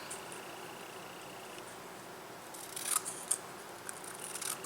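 Scissors trim the edge of paper Bible book tabs with a few quiet, crisp snips near the end, set against a steady hiss of room noise.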